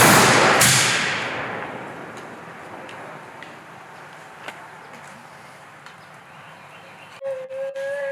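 Ceremonial rifle volley fired at an outdoor remembrance ceremony: one loud, sharp crack that rings out and slowly decays, followed by distant ambient noise and a few faint chirps near the end.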